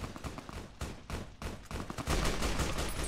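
Gunfire from the video game Fallout New Vegas rattles in rapid bursts, a dense run of sharp shots fairly quiet in the mix and building into a continuous volley.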